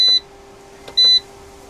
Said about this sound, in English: Okay, solar is coming on. Should beep.